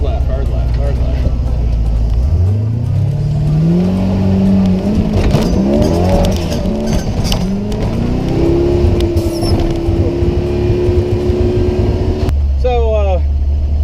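A 1946 Jeep Flattie drives close by, its engine droning and rising in pitch through gear changes and revving, loud throughout, ending with a sudden drop and whine.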